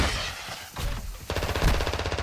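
Gunfire in the Call of Duty DMZ video game, rapid automatic bursts crackling close and loud with dense repeated shots, mixed with game effects.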